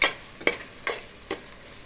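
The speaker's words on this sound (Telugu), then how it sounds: "చూడండి, ఒకసారి కలిపేస్తున్నాను." Prawn biryani ingredients being stirred in a cooker pot, four short scraping strokes spaced about half a second apart, close and clear with no voices.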